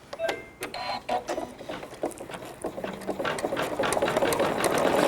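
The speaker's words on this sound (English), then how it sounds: "we're going to now sew the tack down stitch" An embroidery machine sews a tack-down stitch, giving a rapid, steady mechanical needle chatter with clicking bursts that grows denser and louder toward the end.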